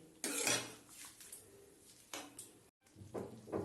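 A spoon stirs dal makhani in a cooking pot after kasuri methi goes in, with faint, close clinks and scrapes of metal on the pot in irregular bursts, and one brief gap.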